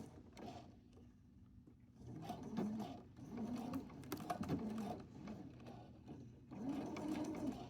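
A sewing machine stitches a hem along a large corner in short, quiet runs, its needle mechanism whirring and ticking with small pauses between bursts.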